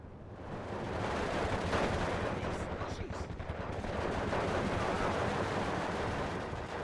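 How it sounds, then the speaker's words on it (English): Mortar and gunfire crackle from a World War II battle in the strategy game Steel Division 2, a dense continuous barrage of overlapping shots and blasts with a few sharper reports in the middle. "Start getting some mortar fire down."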